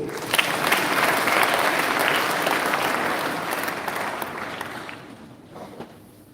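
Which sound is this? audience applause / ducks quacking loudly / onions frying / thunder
audience applause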